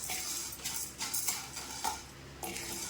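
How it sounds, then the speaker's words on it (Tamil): Chana dal dry roasting in a pan, stirred with a utensil that scrapes and clinks against the metal in repeated strokes over a faint background, with no talking. "அதில் 100 கிராம் பாதியாக வறுக்கிறேன்."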